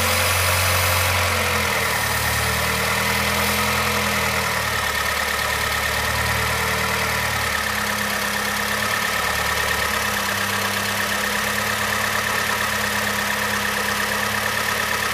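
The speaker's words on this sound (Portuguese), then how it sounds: "Olha o barulho do motor como tá normal agora," A car engine idles smoothly and quietly with a steady low hum, alone and unchanging throughout, its idle actuator noted as broken.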